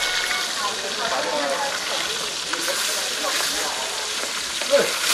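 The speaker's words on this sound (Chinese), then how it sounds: "一条鱼被煎碎了，老范觉得也不错" Fish frying in a pan in a hospital-area communal kitchen, a steady hissing sizzle with occasional bubbling and a spatter near the end, heard close while voices talk nearby.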